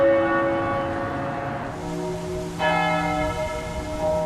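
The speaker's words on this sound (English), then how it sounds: "At midday, church bells tolled in celebration of the Queen's life." Church bells toll at midday in Scotland in tribute to the late Queen, sustained ringing tones with a fresh strike about two seconds in, resonant and fairly loud with no talking.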